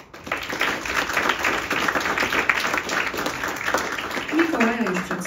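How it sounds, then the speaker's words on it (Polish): An audience applauds the musicians of a jazz trio at a concert, a broad continuous clapping that carries on evenly while voices chatter over it and a sung or spoken tone rises near the end. "I tutaj wielkie brawa należą się muzykom."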